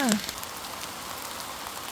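Light rain falls in a steady, soft patter during a mushroom-foraging outing in rural northeastern Thailand, a brief voice fragment at the very start, then continuous even hiss for the rest.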